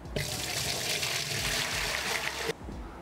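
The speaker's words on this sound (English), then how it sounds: "there's a jug of cleaning liquid that I've made up over there, which is Brew 10, just like we were using earlier. Right, so I'll pour that in." Brew 10 cleaning liquid pours from a jug into a home-brewing vessel in one continuous, splashing gush lasting over two seconds, then stops abruptly, close and steady with no talk.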